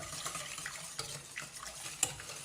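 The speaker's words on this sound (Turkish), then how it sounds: "son yumurtayı da koyup çırpıyoruz iyice" Eggs being whisked into a pudding mixture for a German cake, a quiet wet stirring and scraping with faint clicks of the whisk against the bowl, close and without speech.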